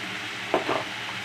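Tomatoes and onions with a little salt sauté in a pan under a soft, steady sizzle, broken by one brief scrape of stirring.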